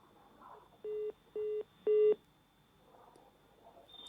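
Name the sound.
telephone line tones after caller disconnected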